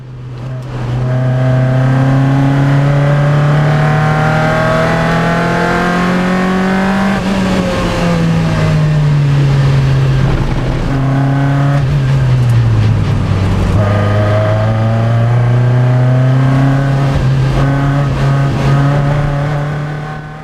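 A Lotus race car engine holds third gear through a downhill corner at Anglesey circuit, a loud, sustained near engine drone with rising and falling pitch as revs swell and dip, with no talk.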